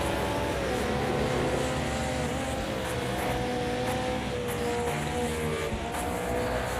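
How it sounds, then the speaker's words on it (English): Race cars in the Automobilista 2 sim racing game drone steadily with a continuous engine roar, a dense, unbroken mechanical whine that stays loud throughout without pauses. "You can hear the other cars."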